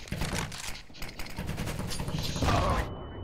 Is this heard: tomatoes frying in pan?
no